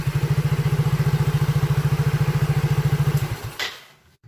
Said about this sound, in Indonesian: Kita matikan lagi, coba starter lagi.